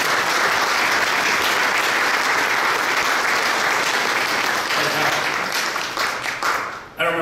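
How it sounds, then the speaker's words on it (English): Sustained audience applause at a banquet for a special guest, a dense wall of many hands clapping that holds steady for several seconds, then thins and fades out near the end. "Yes, he deserves a round of applause."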